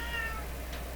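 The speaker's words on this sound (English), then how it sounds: "it's just my cat in the background there" A cat meows in the background of a workshop where a Canadian Philco portable is being examined. The cry is faint and brief over a steady electrical hum.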